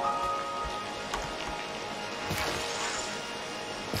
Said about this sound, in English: it's raining still, so my plants will go fast.